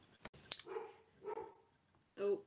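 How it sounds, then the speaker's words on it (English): Dogs bark indoors in a few short, sharp yips and woofs, faint and somewhat distant, spaced irregularly across a quiet room. "you might be hearing my dogs"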